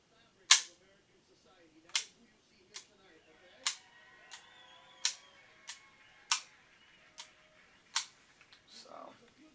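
Smith & Wesson 4006 pistol in .40 S&W, its slide racked and the action dry-tested: about ten sharp metallic clacks and snaps, close and crisp, spaced roughly a second apart, with a faint rustle at the end.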